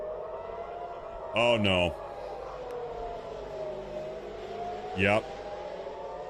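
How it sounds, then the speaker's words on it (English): Air raid sirens in Tel Aviv wail as a steady, slowly wavering tone in the distance throughout, while a voice speaks briefly twice over them. "Folks, I'm hearing sirens in Tel Aviv again."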